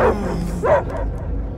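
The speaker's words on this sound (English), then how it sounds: "I hear only barking." A dog barks in Guardians of the Galaxy: two or three close, sharp barks with whiny tones over low ambient rumble.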